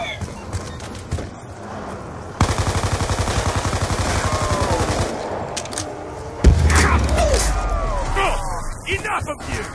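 Rapid bursts of video game gunfire rattle in dense automatic volleys, loud and near, with a heavy boom partway through and a voice calling out over the shooting.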